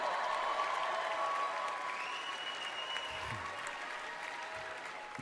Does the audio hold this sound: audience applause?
yes